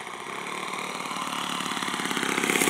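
Small engine of a 45-year-old model biplane throttled back on a landing approach, a steady buzzing drone close by that holds even and grows slightly louder toward the end.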